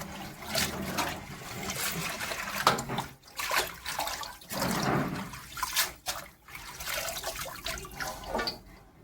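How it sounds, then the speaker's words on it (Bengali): Leafy greens (note shak, a amaranth green) being rinsed by hand in an outdoor pond, with steady splashing, trickling and sloshing water close by, continuous with brief pauses and no talk. "এই দেখুন শাকটা বেছে নিয়ে আসলাম, তারপরে এই পুকুরে ধুচ্ছি।"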